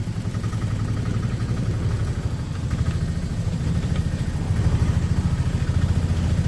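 A motorcycle engine runs steadily close by, a continuous low throbbing chug that holds level for the whole stretch and swells slightly louder toward the end while a rider is told to shift up a gear.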